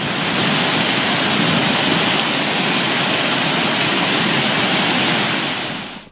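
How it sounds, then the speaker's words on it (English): Running water rushes steadily with a dense, broadband hiss, loud and unbroken for several seconds before cutting off at the end. "Oh, and did I mention running water?"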